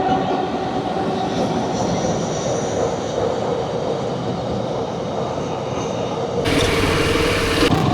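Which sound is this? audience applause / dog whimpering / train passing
train passing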